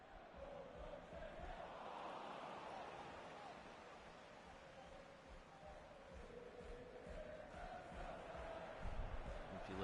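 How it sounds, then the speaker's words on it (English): A large crowd at an FC Cincinnati soccer match chants and roars in the distance, a broad sustained wash of voices rising and falling over about ten seconds. "listen to the crowd, you can hear when the Caps go marching"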